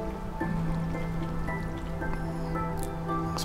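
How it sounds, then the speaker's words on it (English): A crucible bubbles in the Minecraft Thaumcraft 4.1 mod with soft dripping, squishy pops over a steady low hum, continuous and moderately close. "it's bubbling, isn't it?"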